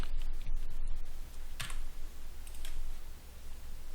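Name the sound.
typing on a computer keyboard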